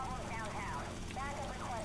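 Helicopter rotor chop from Grand Theft Auto Vice City gameplay, a faint steady whir with warbling tones, running continuously under talk.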